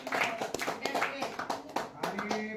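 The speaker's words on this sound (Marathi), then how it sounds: "स्वागत करा टाळ्या वाजवा" A group clapping in welcome at a Ganesh festival gathering, quick uneven hand claps mixed with people talking over them.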